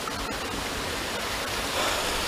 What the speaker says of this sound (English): I've made it out to this waterfall area, it's quite nice